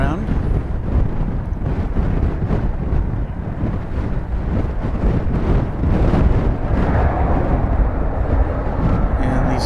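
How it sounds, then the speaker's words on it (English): Strong, gusty wind buffets an outdoor microphone beside runway 18 left at Dallas Fort Worth airport, a loud continuous rumbling roar that swells and eases throughout, with possible faint voices beneath. "Wasn't quite counting on this much wind"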